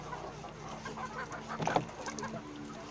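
Chickens cluck softly in a chicken coop, a few short calls rising midway over low, steady background noise.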